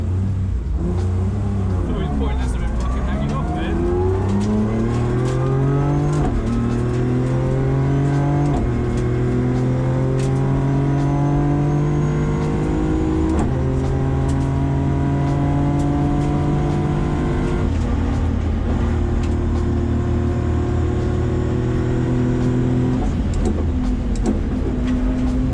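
A BMW E30 at the Players Classic show at Goodwood revs hard through repeated rising and falling engine sweeps for about 25 seconds, loud and close, with people talking faintly underneath.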